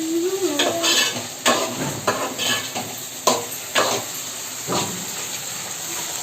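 Onions, green chillies and taro frying in oil for a taro tamarind curry, a steady sizzle broken by several sharp stirring scrapes and clinks from a spoon in the pan, close and alone with no talking.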